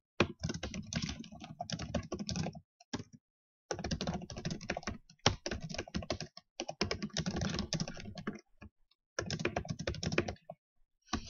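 Steady, close typing on a computer keyboard while entering data into a spreadsheet by hand, clattering keystrokes in several long runs separated by short pauses.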